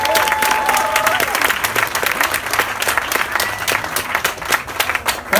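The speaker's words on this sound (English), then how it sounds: "can we have a big round of applause for Dan?" Enthusiastic audience applause after a talk about tree planting, a loud dense wash of clapping from a crowd with a few faint voices mixed in.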